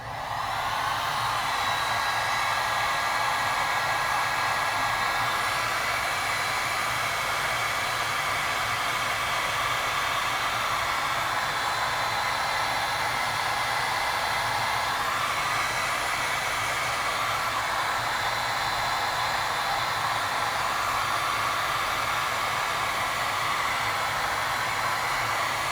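A heat gun blows steadily on heat shrink tubing over a wire connection, a continuous airy fan roar with no talking that holds even throughout.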